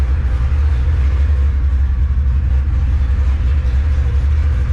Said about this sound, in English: Hear a little bit of an exhaust leak,